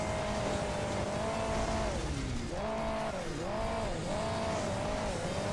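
Engine of a vehicle driving on its rear wheel in the mobile game Hill Climb Racing 2, a steady droning motor whose pitch dips and rises repeatedly, faint under a constant background wash.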